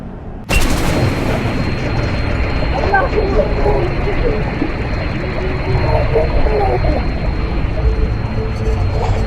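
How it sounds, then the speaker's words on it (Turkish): A plane crashing in the Stranded Deep survival video game: a sudden loud roaring rumble bursts in after a half-second of quiet and holds steady, with a broad, dense boom and wind-like noise throughout, while people talk over it. "Oğlum uçak düşüyor ya."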